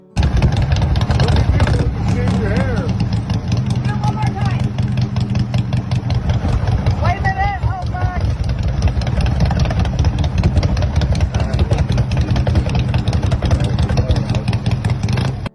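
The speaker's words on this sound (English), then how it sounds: "1980 Harley-Davidson FLT Tour Glide Custom Shovelhead." A 1980 Harley-Davidson FLT Tour Glide Custom Shovelhead idles with a loud, steady, lumpy rumble throughout, close to the listener, with a voice talking over it.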